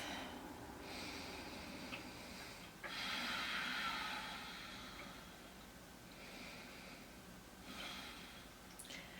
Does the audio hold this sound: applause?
no